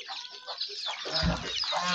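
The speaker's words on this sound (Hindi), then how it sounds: "बाकी डक्स आ रहे" Ducks and chickens at a mini zoo cluck and squawk in a steady, close chorus of overlapping calls, with a brief low thump partway through.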